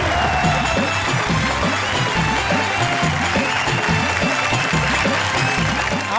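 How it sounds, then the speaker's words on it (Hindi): Audience at a Holi special Hindi poetry event applauds in a sustained, loud burst of dense clapping, with faint cheering mixed into the continuous wash. "जोरदार तालियों के साथ।"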